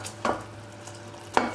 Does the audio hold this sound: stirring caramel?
yes